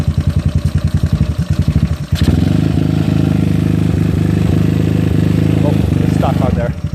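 A GY6 scooter engine fitted with an OKO PWK 30mm carburetor runs loud and close, a rapid chugging idle that steps up into a sustained, steady rev for several seconds.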